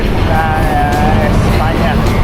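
Manila street traffic seen from a bike ride: a loud, constant roar of engines and road noise with a faint whine layered on top. It is steady and close, with no let-up.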